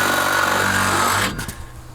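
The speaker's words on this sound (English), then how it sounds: "You're probably drilling the end of the ready rod right there." A power drill bores into the end of a threaded ready rod during a car build, a loud, steady grinding whine lasting over a second before cutting off and leaving a few faint clatters behind.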